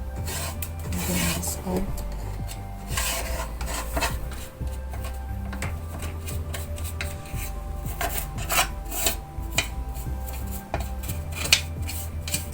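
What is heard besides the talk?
brush scrubbing industrial sewing machine during cleaning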